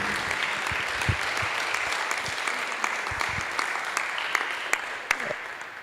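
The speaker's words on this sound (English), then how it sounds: "Let's give a round of applause to Tim" Steady room applause for a presenter at a business talk, many hands clapping at a constant level with a few sharper individual claps standing out throughout.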